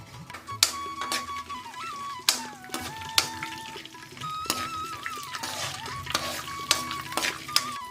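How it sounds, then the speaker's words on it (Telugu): Mustard seeds, chana dal and urad dal crackle and sizzle in hot oil for a lemon rice tempering. Irregular sharp pops and clicks run through a steady frying hiss, close by and alone. "ఆవాలు, శనగపప్పు, మినప్పప్పు 3 మిక్స్ చేసి వేసేస్తున్నానే"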